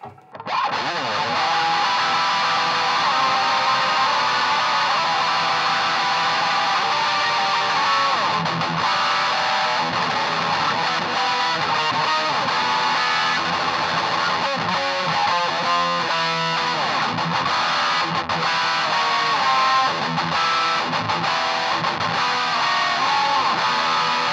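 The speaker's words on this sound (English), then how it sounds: "And that's the whole genre of black metal for you, folks." Loud, continuous wall of heavily distorted electric guitar in black metal style, fast and droning with dense tremolo-like strumming, sustained throughout.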